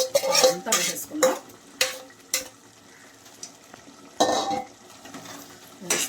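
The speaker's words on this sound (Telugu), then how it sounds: "ఇవన్నీ వేసుకున్నాక బాగా కలుపుకున్న తర్వాత" Bread halwa with ghee-fried dry fruits is stirred in a pan, a spoon scraping and clinking against the metal in short bursts with pauses between, over a faint sizzle.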